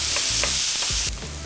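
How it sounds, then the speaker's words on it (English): Vegetables and celery sautéing in a pan for pork shank osso buco, a loud, close, steady sizzle with a few quick stirring scrapes, the hiss dropping off abruptly near the end. "I want to saute these up for about 5 to 7 minutes or until they're softened"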